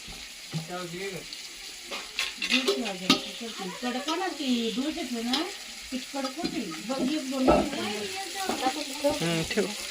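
Bangda fish frying in a rice flour coating, a steady close sizzle of hot oil with occasional stirring and clatter, while someone talks over it.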